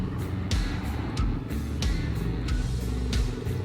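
Heavy trucks rumble past on a badly damaged road where the ground has sunk, engines droning loud and close with repeated brake hisses and clatter over a continuous low roar.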